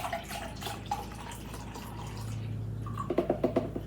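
Chicken stock pours and splashes into a container, a gurgling, dripping stream with a few quick drips at the end.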